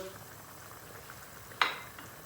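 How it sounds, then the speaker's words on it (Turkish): Pasta sauce boils in a pot with a soft, steady bubbling, faint and close, then a single sharp clink partway through. "Sosumuz kaynadı."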